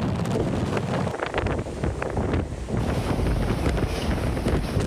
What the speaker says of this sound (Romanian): vântul a bătut chiar și cu peste 170 de kilometri pe oră